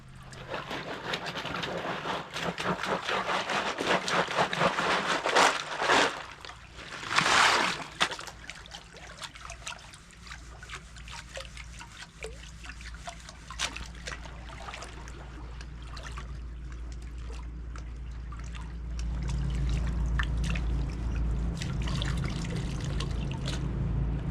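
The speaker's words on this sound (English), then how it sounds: "Sounds like another fishing boat coming by." A motorboat's engine hum grows and fades as it passes on a river, with splashing and trickling water up close.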